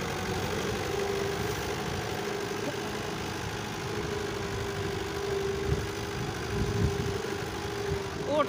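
A tractor engine runs steadily at a low, continuous idle-like rumble, fairly close, with no clear changes in pace and a few faint knocks.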